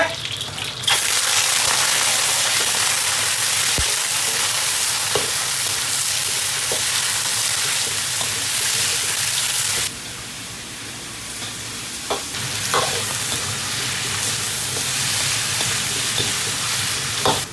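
Pieces of an old rooster fry in a hot wok with ginger, garlic and spices, a loud, dense sizzle that eases partway through and then rises again, with spatula scrapes and knocks against the wok.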